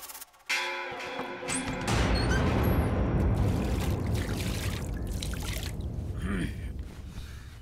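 A toilet flushing, with water rushing loudly and steadily for several seconds after a sudden start, close and unbroken.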